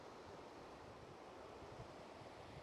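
Constant, fairly small ocean waves wash onto Chesterman Beach in Tofino, British Columbia, heard as a steady, soft surf hiss with faint wind and no clear individual breakers.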